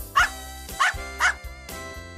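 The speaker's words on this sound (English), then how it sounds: "dog." Cartoon dog barking in a children's learning show: three or four short, loud woofs in quick succession over a light musical backing, no talk.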